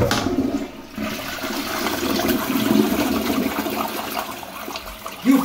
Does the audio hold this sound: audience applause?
no